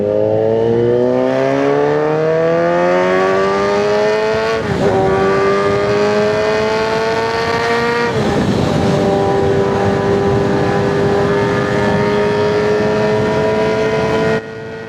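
A Kawasaki Z900 inline-four revs hard and close, its pitch climbing through repeated upshifts, each gear change cutting in before the scream rises again.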